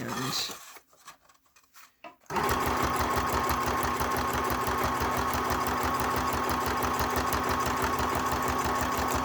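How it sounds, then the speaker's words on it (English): After a few faint clicks and handling noises, a small handheld sewing machine starts up and runs continuously with a fast, steady mechanical whir and rattle, stitching. "I really like this little sewing machine."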